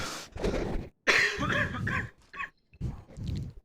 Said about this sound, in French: Excusez-moi si vous entendez que je tousse.